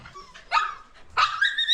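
Japanese Maltese dogs give two sharp, high-pitched yips close by, the second rising into a thin whine, with no talking.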